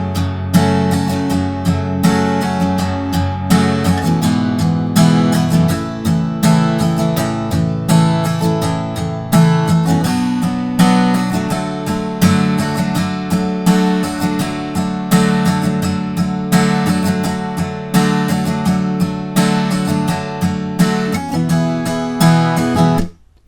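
Acoustic guitar strumming the chords of the chorus of a song in a down-up pattern, steady rhythmic strums with chord changes, close and full for the whole stretch, no singing or talk.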